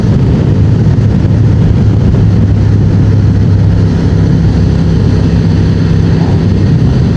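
Honda Transalp 750 motorcycle engine running on the road while shifting into fifth gear, a loud, steady droning hum with constant wind rush and no clear break.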